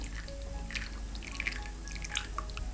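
Crayfish bisque stock drips through a fine sieve, a steady patter of small, light drops falling close by against a constant low background hum.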